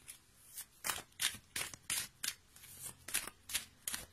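Tarot cards are handled and turned over one after another, making a quick series of soft, close papery snaps and slides with brief pauses between them and no talking.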